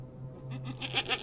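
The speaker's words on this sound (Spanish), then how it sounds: "escuchamos el balar de una cabra" A goat bleats in a few short, wavering calls over a low steady hum, fairly close and clear.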